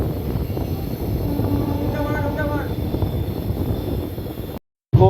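A train on the Kolkata to Digha line rumbling along steadily, a loud continuous rolling drone with faint squealing tones from the wheels partway through.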